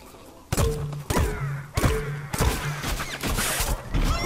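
Peashooter firing in Plants vs. Zombies: Garden Warfare 2, a series of punchy thunking shots spaced about half a second to a second apart, loud and close, with game effects chattering underneath.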